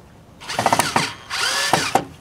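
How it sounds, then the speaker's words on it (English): A handheld power drill whirs in two bursts in a backyard, each a loud, close buzzing run of about half a second to a second with clicking stutters as the trigger is pressed and released. "I'm gonna drill this one."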